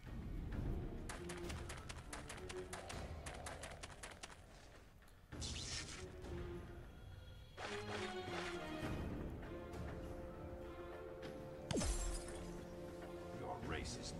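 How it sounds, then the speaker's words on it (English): A ship crash plays as a sound effect in a Death Battle fight animation of Sub-Zero versus Glacius, with loud shattering and smashing bursts over a busy soundtrack while voices talk over it. "Oh no, the ship has crashed."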